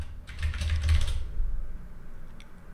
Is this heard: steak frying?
no